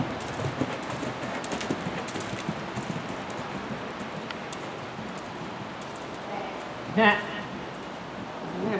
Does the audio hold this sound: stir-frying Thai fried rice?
no